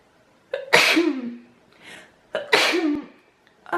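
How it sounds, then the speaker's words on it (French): Two sharp, close sneezes, each with a quick inhaled lead-in and a loud burst, separated by a soft breathy pause in a quiet room. "Je vais éternuer."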